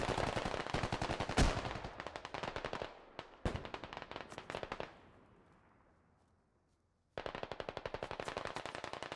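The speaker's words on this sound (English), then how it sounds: "you're shooting at a BTR there, buddy" Automatic gunfire rattles in long rapid bursts at a BTR armoured vehicle in the video game Squad, loud and close, with a few sharp louder shots, a fading echo during a lull, then more firing.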